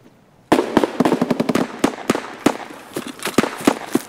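SKS rifle fire in the shooter game Escape from Tarkov, a rapid burst of loud sharp cracks after a brief quiet, with irregular shots continuing and echoing nearby.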